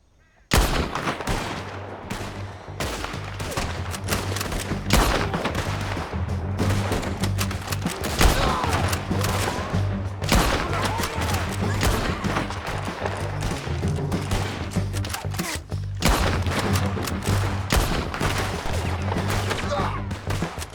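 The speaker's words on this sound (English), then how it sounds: "Keep shooting, boy." Sustained heavy gunfire in the Red Dead Redemption 2 epilogue, dense overlapping rifle and pistol shots and booming reports rolling on without pause for about twenty seconds, loud and close.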